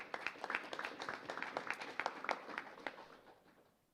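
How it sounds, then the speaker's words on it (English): Audience at a school honor society induction ceremony breaks into applause, dense distinct claps from a moderate crowd, fairly distant, fading out toward the end. "Please join me in thanking them with a round of applause"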